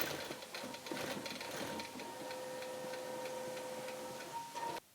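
A sewing machine runs steadily while quilting a fabric square, a close, even mechanical hum with rapid ticking that stops abruptly near the end.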